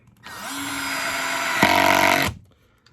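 A Milwaukee 12-volt screw gun drives a wood screw into plywood in one close, loud whirring burst of about two seconds, its pitch dropping sharply partway through as the screw seats.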